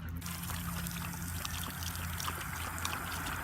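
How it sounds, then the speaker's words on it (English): Park drinking fountain running steadily with a continuous pouring trickle of water, close and fairly loud, while two dogs wait nearby; no talking. "Odie likes to drink the water straight out of the water fountain."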